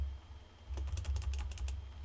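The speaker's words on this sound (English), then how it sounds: "I'm actually going to type chords in there." Rapid clicking of keys on a computer keyboard, a short quiet burst of typing over a low steady hum.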